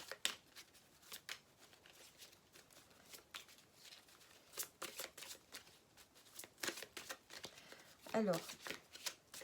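Oracle cards being shuffled and drawn, a series of soft papery flicks and riffles in short bursts, with someone speaking French at moments between them.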